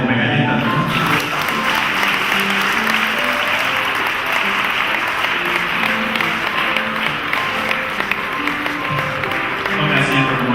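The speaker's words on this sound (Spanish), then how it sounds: "Yo creo que hay que aplaudirle a Come Galletas" An audience applauds steadily for Come Galletas, dense clapping at an even level throughout with a faint voice murmuring underneath.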